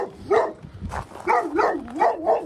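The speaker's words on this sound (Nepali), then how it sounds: "कुकुर छ दाइ ए कुकुर छ" A local dog near a restaurant in Oradea, Romania, barks and yips repeatedly at close range in uneven bursts, with whiny tones between barks.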